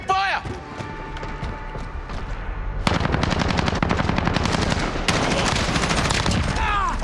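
Video game gunfire with loud, dense automatic bursts, lighter at first and then a sustained, continuous rattle from about three seconds onward.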